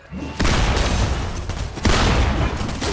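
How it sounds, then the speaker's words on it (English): Shotgun blasts in Fortnite: two loud, close booming shots about a second and a half apart, each with a harsh crack and a short decaying tail. "I'm gonna drop him with this great shotgun."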